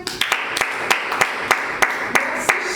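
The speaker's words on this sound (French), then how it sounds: "Vous pouvez vous applaudir" A small audience claps in a loose, steady rhythm of distinct close hand slaps, about three per second, with no talking over it.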